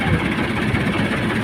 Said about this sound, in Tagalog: nagminor na sila ng makina